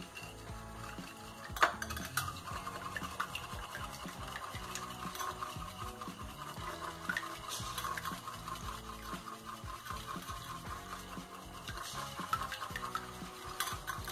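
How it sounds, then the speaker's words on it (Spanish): Eggs with salt and pepper being beaten in a bowl for a ham and cheese omelette, giving a steady, faint clicking and scraping stir that runs continuously under background music. "Y los vamos a volver a batir."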